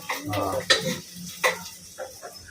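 Onion being cooked and stirred in a pan, a few sharp spoon-on-pan scrapes and clinks over a soft sizzle, close and brief.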